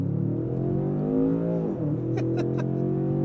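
A 2025 Range Rover Sport SV engine in SV performance mode revs loudly from inside the cabin, with a deep steady drone that dips briefly during a shift and then climbs again.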